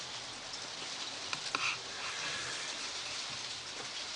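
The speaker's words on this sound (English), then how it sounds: "I don't know if you can actually see the rain there, but it is really giving it some." Heavy rain falling steadily on an allotment garden, a constant soft hiss with a few louder drips, fairly faint and with no one talking.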